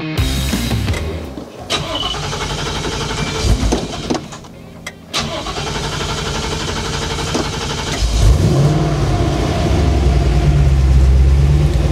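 A Ford F-150 pickup with a swapped Godzilla engine, which has an ignition switch fault, drives along with a steady, loud engine drone throughout. The engine note deepens and rises near the end as it accelerates, and the power windows briefly whine.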